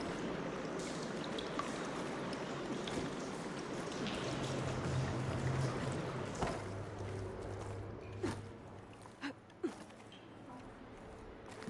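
In Horizon Forbidden West, water rushes steadily through pipes and valves as a soft, continuous flow, with a low hum and a few faint knocks and splashes near the end.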